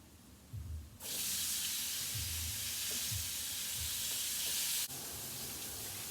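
Shrimp hit a hot pan of browned garlic and burst into a loud, steady sizzle that holds for several seconds, with faint low clunks of stirring underneath.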